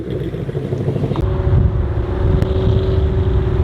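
A Mustang Cobra with an 840-horsepower Whipple supercharged engine gives off a loud, steady, deep rumble that holds nearly level throughout, with no sharp rev spikes, heard outdoors in overcast, misty weather at a car meet.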